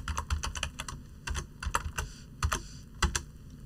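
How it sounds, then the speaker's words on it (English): Rapid, uneven keystrokes on a computer keyboard, clicking close by in short bursts with brief pauses while code is entered, no voices. "If I was to type the code thumbs up,"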